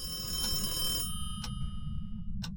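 An electronic telephone bell rings in the video game Phasmophobia in a steady trill over a low hum, then stops, followed by a couple of short, sharp clicks.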